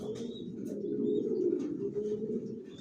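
Racing pigeons in a loft giving a low, continuous throaty cooing that swells in the middle, close by, with a few faint chirps above it.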